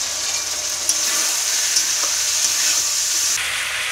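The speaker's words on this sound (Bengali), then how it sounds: "তো মিট মশলা আর লঙ্কার গুঁড়ো দিয়ে দিচ্ছি" Meat frying in a pan with meat masala and chili powder, giving a loud, steady sizzle and hiss throughout with a few faint stirring ticks, no voices.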